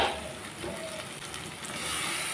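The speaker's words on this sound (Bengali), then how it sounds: "আলুর সাথে মশলাটা কষিয়ে নেব" Potatoes fry with spices in a pan for a potato dum dish, a close, continuous sizzle and crackle with soft stirring noises throughout.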